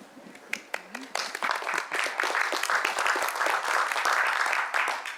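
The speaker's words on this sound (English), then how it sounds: "With the applause, I feel like I need to have some comments." Applause from a public meeting audience at a county general plan presentation, starting with a few scattered claps and a brief voice, then filling into sustained, even clapping throughout.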